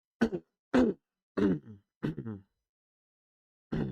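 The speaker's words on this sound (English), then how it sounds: "Can't clear my throat at the moment." Several short, rough throat-clearing grunts in a row, close and fairly quiet, with brief silences between them and one more at the end.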